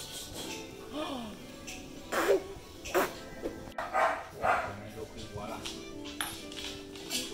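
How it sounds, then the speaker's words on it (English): A dog gives several short yips and whimpering barks in bursts at close range, with people talking around it. "You're a good dog."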